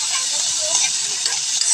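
Seafood sizzling in a pan while it cooks, a steady, bright hiss with soft crackle running evenly throughout.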